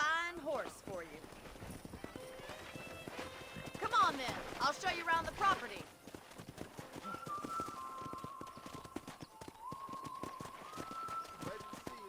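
Horse hooves clip-clopping in the Western video game Red Dead Redemption, a steady mid-distance rhythm running under conversation between characters, with background score.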